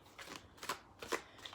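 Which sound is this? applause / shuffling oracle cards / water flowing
shuffling oracle cards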